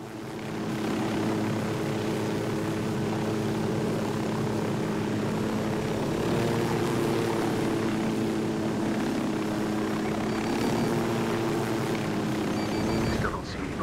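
Steady droning hum of a surveillance drone flying in Ghost Recon Wildlands near a large cartel base, continuous and even for the whole stretch, cutting off abruptly at the end.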